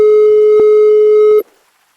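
One long, steady telephone ringing tone plays as a call is placed. It sounds loud and clear, then cuts off abruptly, leaving near silence.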